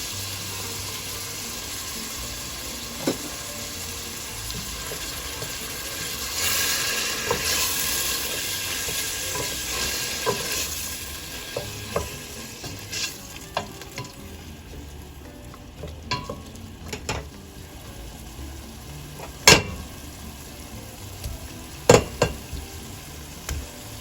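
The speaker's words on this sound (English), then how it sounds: "Now I'm going to add in the tomato sauce." Tomato sauce hits a frying pan for a corn stew, giving a steady soft sizzle with scraping stir strokes and a few sharp clinks of the utensil against the pan.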